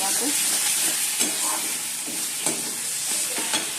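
Spice masala and onions fry in a pan with a dense, close hiss and sizzle, and a few soft stirring knocks come at regular intervals.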